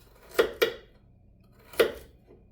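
A kitchen knife cuts through long, fresh, crisp carrots on a board, three sharp separate chops, two close together and then one after a pause, with no talking.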